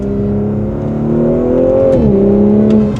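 A tuned car with a Stage 1 ECU and Stage 2 TCU tune pulls hard in second gear from about 35 mph, a loud, steady engine drone rising in pitch with a brief dip near a shift, heard from inside the cabin.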